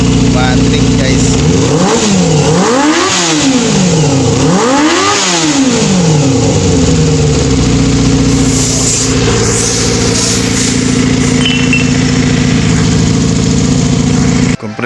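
A Yamaha FZR 250 motorcycle under restoration is being started and revved. Its engine is loud and close, with two strong rising-and-falling revs early on before it settles into a steady, high, buzzing idle.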